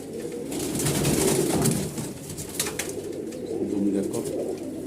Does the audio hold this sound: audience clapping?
no